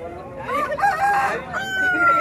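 A rooster crows loudly and close at a chicken market, one drawn-out, wavering call rising and falling over low background bustle.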